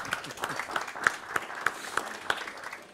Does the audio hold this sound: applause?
yes